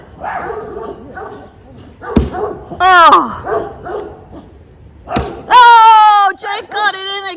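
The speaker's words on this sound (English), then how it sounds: "the dog next door is cheering you on" A neighbour's dog barks in a few sharp, close bursts, joined by whiny yelps, between stretches of people talking and exclaiming at a backyard Mother's Day and birthday gathering.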